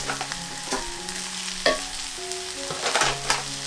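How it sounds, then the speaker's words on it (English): Flour, plain bread flour, stirred quickly into gravy in a pan, giving a steady scraping and stirring bustle over a soft sizzle, with a few sharper clinks of the utensil against the pan, close and fairly quiet. "I just want to add a little bit of flour and mix it quickly"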